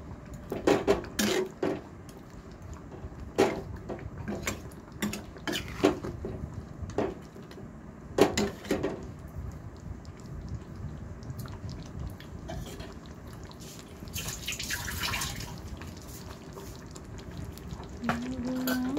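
Chicken cooks in butter for chicken rezala while a utensil scrapes and clinks against the pan in irregular bursts over a soft sizzle, with a louder hiss late on.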